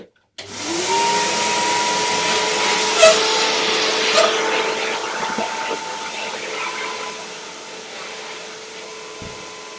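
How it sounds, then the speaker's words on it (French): A vacuum cleaner switches on abruptly and runs with a steady whine and airy hiss, up close, with a few bumps and knocks as it is pushed around. "Je vais aller passer l'aspirateur."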